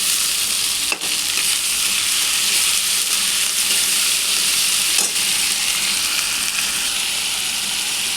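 Ginger paste and green chili paste sizzle loudly in hot oil while chana dal is cooked, a dense continuous frying hiss with a couple of brief stirring clacks and no talk.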